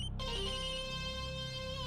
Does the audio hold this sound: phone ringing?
yes